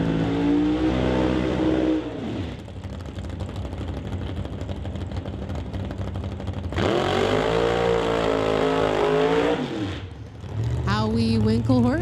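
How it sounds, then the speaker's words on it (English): A 1948 Austin race car with a 512 Dodge motor roars loudly during qualifying, its engine revving up and down in strong surges that rise, dip and climb again, with a commentator talking over the noise. "1948 Austin, running a 512 Dodge motor."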